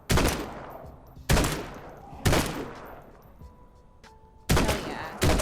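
Gunfire in the zombie survival game Quarantine Zone: five loud, sharp shots at irregular intervals, each with a decaying echo, plus a brief electronic tone between two of them.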